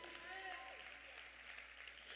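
Congregation clapping in a Spanish-language church service, a sustained, even patter of applause over soft tones and background voices.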